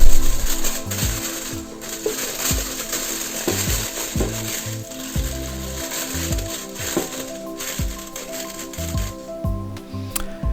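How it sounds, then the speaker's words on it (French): Aluminium foil pressed into the bottom and sides of an air fryer basket to line it, giving close, irregular crinkling and crushing rustles over about ten seconds with a steady hum beneath. "et sur les côtés un peu de papier d'alu."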